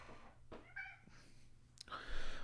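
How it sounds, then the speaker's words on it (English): A cat meows briefly in a quiet scene, with a few soft, separate calls heard faintly alongside a person talking. "pretty cat."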